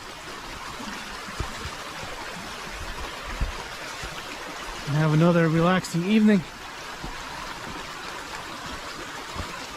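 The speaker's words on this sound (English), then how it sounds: "It's so relaxing listening to that water running down there at the bottom." Water from a mountain stream runs steadily at the bottom of a slope, a soft continuous wash heard from a distance, with a person speaking briefly over it partway through.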